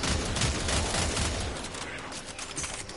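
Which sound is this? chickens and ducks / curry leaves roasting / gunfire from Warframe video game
gunfire from Warframe video game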